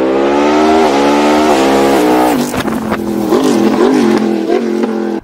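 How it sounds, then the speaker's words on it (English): A motorcycle fitted with a very loud SC Project CRT exhaust revs up close, holding a steady high drone before dropping and blipping the throttle several times, the sound loud and dominant. "I've got a really loud exhaust on my bike. I'm running the SC Project CRT,"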